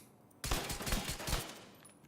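A rapid burst of video-game gunfire in a PvE shooter, loud and close, a quick run of shots lasting about a second before fading into a quiet tail.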